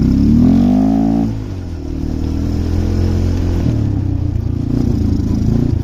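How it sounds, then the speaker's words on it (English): A snow vehicle's engine fitted with an Amazon carburetor bogs at partial throttle in 6 to 8 inches of deep snow, a loud, close, uneven drone that sags and struggles rather than revving cleanly, with no talking. "If you give it partial throttle, it does that bogging."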